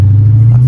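A Dodge Hellcat engine answers a light throttle press with a deep, loud, continuous low rumble heard close up and alone, holding steady through the short moment.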